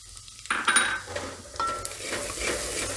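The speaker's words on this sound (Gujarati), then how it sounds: "અને આપણે શેંગદાણા નાખી દેવું એટલે આ શેકાઈ જાય એમ." Peanuts dropped into hot oil with cumin and asafoetida, a quiet start giving way to a sizzle with scraping stirs and a brief clink of a utensil against the pan.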